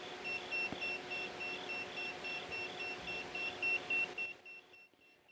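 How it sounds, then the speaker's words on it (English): Repeated electronic beeping from a handheld paranormal detection device, a steady series of short high tones pulsing regularly over a humming background for about four seconds, then falling silent. "And it's beeping."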